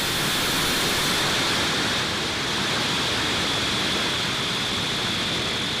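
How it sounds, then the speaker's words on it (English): A loud, steady roar of broadband noise from a SpaceX Falcon 9 rocket launching Starlink satellites, heard from a distance, rumbling on without a break. "ignition, engines full power, and liftoff of Starlink 6-10."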